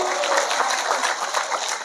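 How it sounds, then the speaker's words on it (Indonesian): Applause from an audience at an Indonesian religious sermon, a dense steady wash of many hands clapping that fills the short stretch at even loudness. "Tepuk tangan se."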